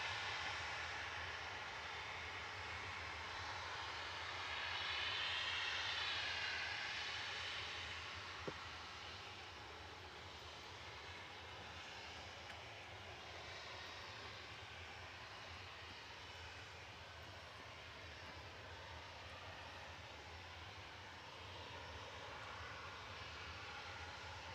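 A Ryanair Boeing 737-800 bound for Gdansk departs Manchester Airport, producing a sustained, distant roar of jet engines that swells briefly and then holds steady and moderately faint.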